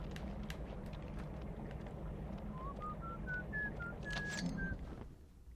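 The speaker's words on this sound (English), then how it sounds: "Someone's having a whistle." Whistling in the Batman Vengeance video game, a short rising tune of separate notes heard over a steady rumbling ambient background with scattered clicks and bursts.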